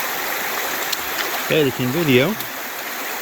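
A creek in the Ozark Highlands flows with a steady broadband rush throughout, and someone talks briefly over the water noise.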